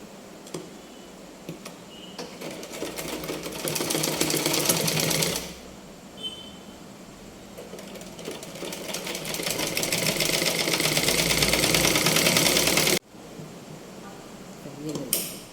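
A sewing machine stitches the front panel of a 36-inch blouse in two long runs of fast, steady whirring, with short pauses between them and a voice talking nearby.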